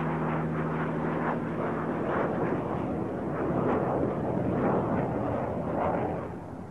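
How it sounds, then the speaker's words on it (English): A Messerschmitt Me 262 jet fighter roars loudly and steadily for several seconds with a broad, rushing engine noise, swelling midway and fading out at the end, with no talk. "the Luftwaffe's most advanced fighter, the Messerschmitt Model 262"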